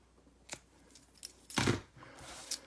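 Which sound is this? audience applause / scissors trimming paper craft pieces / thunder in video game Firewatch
scissors trimming paper craft pieces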